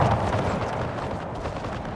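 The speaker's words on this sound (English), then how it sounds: "We got some really good cannon shots in the early start." Cannon fire in the video game Empire: Total War, a dense, continuous rumble of booming artillery shots layered over one another at close range, loud throughout.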